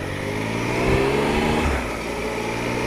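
A dirt motorcycle's engine hums steadily while riding on a dirt track, rising briefly in a short rev before settling back, close and loud, with no talk.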